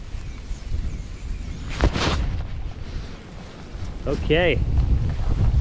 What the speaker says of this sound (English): Man, wind is rough today.